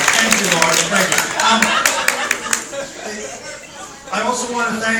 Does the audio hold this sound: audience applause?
yes